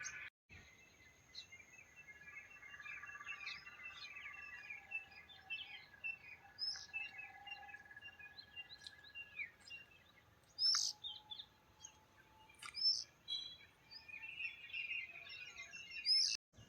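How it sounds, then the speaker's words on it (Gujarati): Faint birds chirp and call intermittently in quiet open air, with scattered high tweets and a soft insect-like buzz underneath. "પંખીડા કિલોલ કરે છે"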